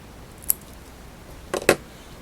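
Scissors snip trimming off excess material while tying a fly, one faint snip followed by a louder double cut close by.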